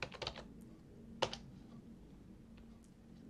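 Commands being typed on a computer keyboard while setting up Linux desktop install scripts, with a few quick bursts of key clicks separated by pauses, close and fairly quiet.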